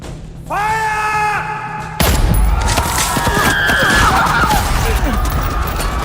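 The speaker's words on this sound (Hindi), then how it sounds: "सुनते ही गोलियां चली और शांत वाला माहौल को चीरती हुई गई।" A tonal whine gives way to a sudden dense burst of rapid gunfire, a sustained loud volley of overlapping shots crackling continuously, depicting the Jallianwala Bagh massacre.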